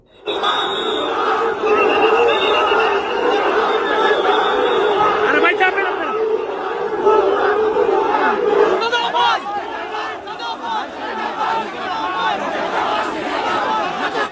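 A large crowd chants 'fake, fake' slogans in unison against Mirza Abbas, a loud, continuous mass of voices rising and falling in rhythm with no break.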